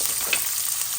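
Onions frying in oil with cumin, mustard seeds and curry leaves in a pan, a steady close hiss of sizzling with a brief crackle partway through, no voices.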